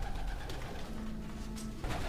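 Pigeons coo softly and steadily inside a loft, close and clear against a faint background hum.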